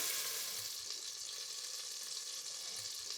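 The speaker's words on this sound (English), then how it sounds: "I'm just going to add the leeks into the pan with the oil and butter" Chopped leeks sizzle in a pan of hot oil and butter, a steady, close, bright frying hiss with soft stirring bumps underneath, and no talking.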